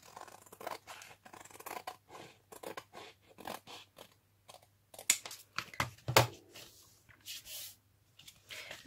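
Scissors snip through folded paper while a scented paper bag is being made, a close series of crisp, irregular cuts with short pauses between strokes, quiet and alone.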